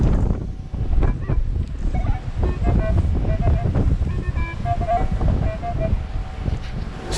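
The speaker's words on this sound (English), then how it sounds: "Look at that wind blowing. It's crazy tonight." Strong wind gusts across a beach at Dead Horse Bay on Barren Island, a steady loud roar of buffeting on the microphone that persists for the whole stretch, with faint tonal chirps mixed in.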